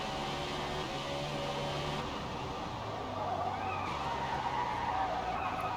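A NASCAR stock car in a driving game slides sideways along a Japanese mountain touge road, its engine droning steadily with a sustained tyre hiss and shifting pitch as it drifts, loud and close throughout.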